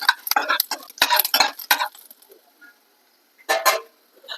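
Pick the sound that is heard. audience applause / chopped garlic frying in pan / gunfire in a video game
chopped garlic frying in pan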